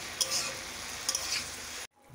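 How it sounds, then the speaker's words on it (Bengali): Steady hiss of cauliflower frying in a hot pan, with a couple of brief crackling bursts, then cutting off abruptly near the end. "আর এই দেখো ফুলকপি ভেজে নিচ্ছি"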